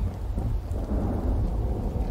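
Rain and rolling thunder in a survival building video game, a low continuous rumble with steady rainfall, alone without speech.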